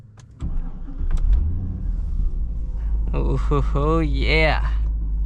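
A 600HP supercharged Cadillac CTS-V cranks and fires up, then settles into a deep, loud rumbling idle close by, while someone briefly speaks over it.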